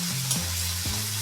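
Spice paste of ground garlic, ginger and slit green chillies fries in a pan with a brief, steady sizzle, a faint tonal hum running underneath.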